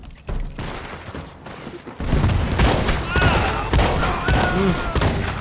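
Gunfire in the Red Dead Online video game during a Fort Mercer defence, with loud repeated shots and booms over a dense, noisy backdrop, growing heavier partway through.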